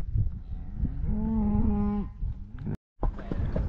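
A single cow on a working ranch lets out a long, loud, tonal moo close by, followed by a brief gap and outdoor rustling.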